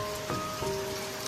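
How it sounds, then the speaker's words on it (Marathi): Rain falling in a village during the monsoon, a soft steady patter of drops on surfaces with a couple of faint tonal sounds behind it. "पाऊस पडतोय"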